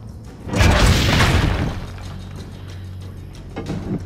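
A cannon fires in the video game Assassin's Creed Brotherhood: one heavy boom and crash that swells quickly, rumbles for about a second, then fades into a quieter background.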